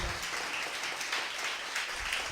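Church congregation clapping during a sermon, a brief steady wash of applause at moderate distance.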